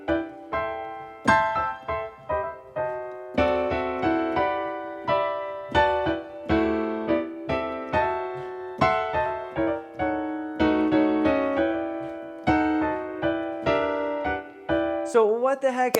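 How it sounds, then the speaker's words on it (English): Jazz chords in drop 2 voicings, played as a steady flowing sequence of rich harmonic block chords with a melody on top, clear and unaccompanied, ending with a brief higher flourish. "voicing number 5 technique is called the drop 2 voicing technique, and it sounds like this."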